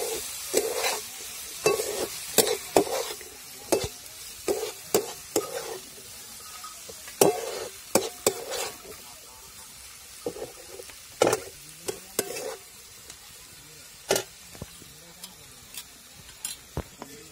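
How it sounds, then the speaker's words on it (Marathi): Onion sautéing in masala and oil for a homemade soybean dry curry, with a steady close sizzle broken by frequent sharp spatula scrapes and clicks against the pan; no voices. "कांदा आपल्याला चांगला तेल सुटेपर्यंत परतून द्यायचा आहे"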